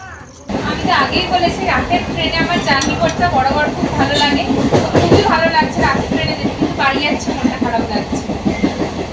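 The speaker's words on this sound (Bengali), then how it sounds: "অলরেডি ট্রেন ঢুকছে পিছনে হর্ন দিচ্ছে তোমরা শুনতে পাচ্ছ ট্রেন এবার ঢুকছে" A train pulling into a station rumbles and clatters loudly and close by, with a sustained rhythmic wheel noise and brief horn blasts, while voices talk over it.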